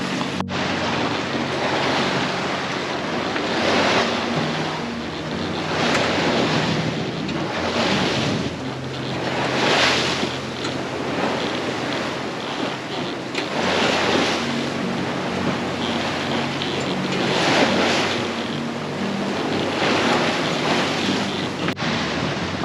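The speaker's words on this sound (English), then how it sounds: "We got some pretty good swells here. Little 4 to 5 footers and pretty close together." Ocean swells of four to five feet, closely spaced, rolling and washing around a sailboat under sail, a loud continuous surge of water with rhythmic swells, heavy wind buffeting the microphone, no talk.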